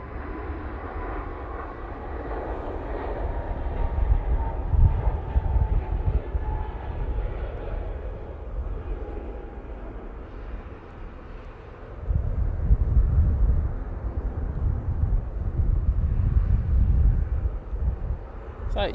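A Ryanair airliner rolls down the runway at Manchester Airport, its jet engine roar steady and broad, then swelling louder and nearer in the last third, with some wind buffeting the microphone.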